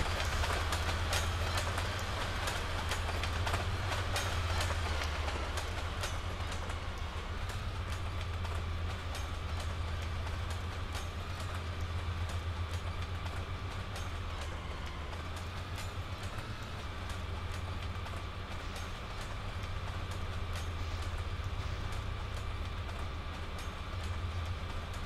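An Amtrak passenger train rolls around the Tehachapi Spiral, a steady loud rumble of wheels and cars with faint rhythmic clicking over the rails, continuous for the whole stretch with no talking.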